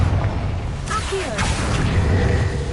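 A Confringo fire spell blasts a boiler in Hogwarts Legacy, a booming burst with a whooshing swell in the middle, set against a low rumbling game ambience.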